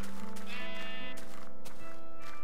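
A Minecraft sheep gives a single short, close bleat in the game, standing alone without talk.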